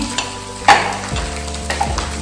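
Tomato puree hitting hot oil in a frying pan, a loud, steady close sizzle with a sharper hiss as it lands and a couple of stirring scrapes.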